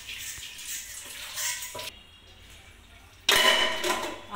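Running kitchen tap water splashes over a vessel being rinsed, with two loud bursts of gushing water separated by a quieter pause.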